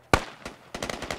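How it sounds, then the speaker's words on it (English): Gunfire in the video game Squad: one sharp close shot, then another, then a rapid burst of several shots, loud and alone. "Oh my god, he's shooting a gun now"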